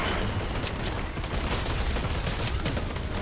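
Turret gunfire in a video game battle against the Storm King, a dense, continuous burst of rapid shots filling the clip loudly with no pauses.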